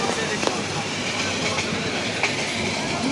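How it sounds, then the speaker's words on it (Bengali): A passenger train on the Dhaka to Dewanganj line crosses a bridge over a calm river. It gives a steady, close rumble with faint rhythmic rattles and clicks throughout. "নিচে শান্ত নদী, উপর দিয়ে ছুটে চলছে ট্রেন"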